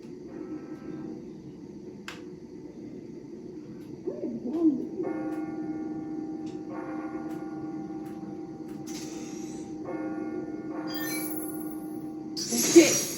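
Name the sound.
bells ringing, from video game Spider-Man Miles Morales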